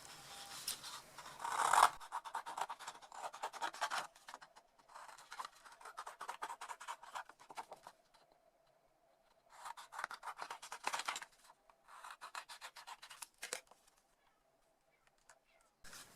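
Scissors snip around sewn fabric for a Christmas project, crisp clustered cuts in bursts with short pauses, close and fairly quiet, with no talking.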